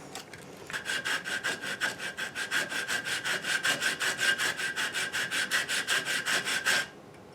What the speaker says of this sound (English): I think that might be able to be done with the sanding block.